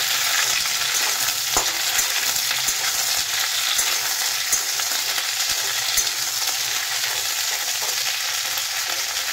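Sliced okra frying in a hot pan gives a steady, dense sizzle with occasional soft scrapes and taps of a stirring utensil, close and continuous throughout, with no voices.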